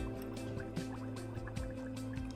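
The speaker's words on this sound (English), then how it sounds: "I bubble the carbon dioxide gas through the colourless lime water" Carbon dioxide gas bubbling through colourless lime water in a chemistry gas test, giving soft repeated bubbling and gurgling pops at a fairly regular rhythm, quiet and close, with no talk.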